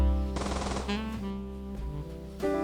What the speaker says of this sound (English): All the monsters stand no chance against Santa's minigun.